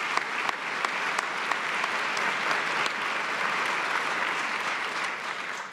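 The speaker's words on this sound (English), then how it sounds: "let's give him another round of applause for him" A crowd at a police promotional ceremony claps for Chief Humphrey in dense, sustained applause with a few sharper individual claps, steady and loud throughout before fading slightly at the end.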